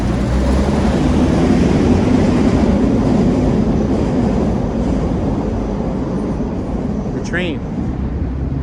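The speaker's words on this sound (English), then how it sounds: "Look at the train." An elevated L train passing overhead on a Philadelphia street, a loud sustained rumble and rattle that fills the whole stretch, with a brief squeal of wheels near the end.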